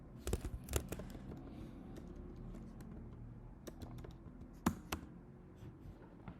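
Code is typed on a computer keyboard in quick, irregular bursts of close, crisp key clicks, with a few louder taps standing out and short pauses between runs.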